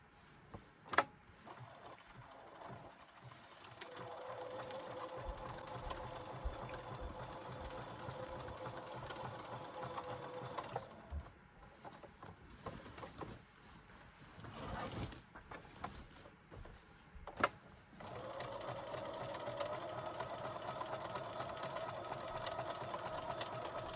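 A sewing machine stitches patchwork applique onto upcycled jeans in several close bursts of rapid whirring, separated by short pauses.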